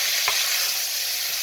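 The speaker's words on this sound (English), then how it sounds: "So that's sizzling away there, as you can hear" Curry of Kerala-style white mutton sizzles steadily in a pan, a close, even frying hiss with one brief utensil knock near the start.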